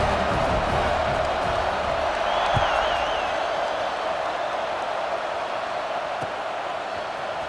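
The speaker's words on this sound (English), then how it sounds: "You think this crowd's going to get loud when their defense comes on the field?" A stadium crowd in EA Sports College Football 26 roars in a steady, dense wash of cheering, holding at a loud level throughout with a faint whistle-like tone briefly rising above it.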